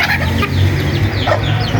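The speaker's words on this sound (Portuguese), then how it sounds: "Sobrou um pouquinho desse de arroz aí, já alimenta uma galinha que vai alimentar a gente, olha lá, ó." A chicken clucks close by while pecking at leftover rice, a busy run of short clucks and murmurs with other fowl faintly heard around it.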